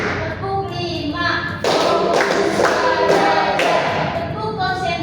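Schoolchildren in a class clapping game, counting aloud as they go, with bursts of loud group hand claps between spoken counting voices.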